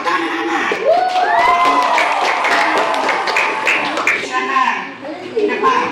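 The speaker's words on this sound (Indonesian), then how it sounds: "Tepuk tangan anak-anak." Children in a primary school religious-education class clap together, sharp taps mixed with their chanting voices, close and lively throughout.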